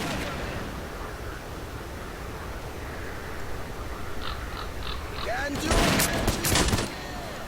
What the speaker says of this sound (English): Enjoy the sound of gunfire.